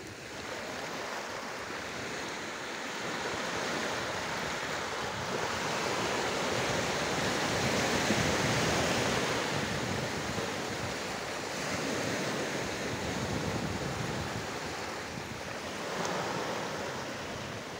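Steady surf washing onto the shore at Cunda beach in Ayvalık, a continuous broad roar of breaking waves with light wind noise, no voices.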